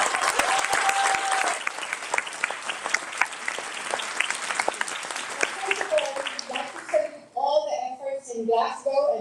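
Scattered clapping from a small crowd at the COP26 Coalition opening event in Glasgow, steady for several seconds, then tapering off as a voice begins speaking.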